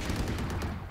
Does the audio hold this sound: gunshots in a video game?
yes